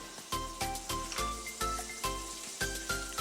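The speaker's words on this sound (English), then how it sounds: "put a pot on medium heat and add in 2 tablespoons of butter" Two tablespoons of butter sizzling in a pot over medium heat, a steady close hiss broken by a few soft clatters and pulses, with no talking.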